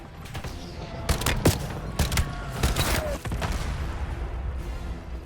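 Gunfire in the Black Ops 7 campaign, a run of sharp close shots in irregular bursts over a low rumbling background, loudest early then thinning out.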